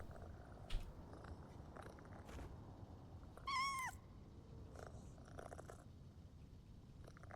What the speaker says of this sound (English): Wait, I hear a cat. Oh my god, there is a cat.